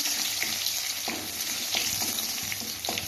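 Chopped garlic frying in a pan for a fried jute-leaf dish, a steady close sizzle with light stirring scrapes throughout.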